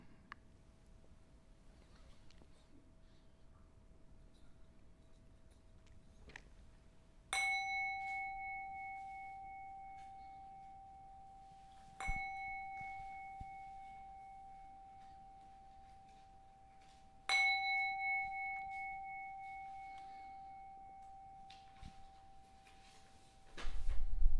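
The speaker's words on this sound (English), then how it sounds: "I will now ring the bell 3 times, and the 3rd bell, it's time to open your eyes and come out of your meditation." A meditation bell struck three times at even intervals, each ring clear and bright and fading slowly into near silence between strikes.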